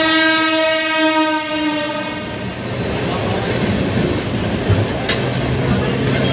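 An EMU electric train runs past Hazrat Nizamuddin station, its loud horn sounding first and then giving way to a steady, close rumble and rattle of wheels on track.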